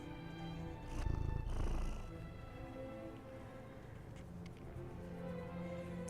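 A cat purrs close by in a low, steady rumble, swelling louder for a moment before settling into a soft, continuous drone.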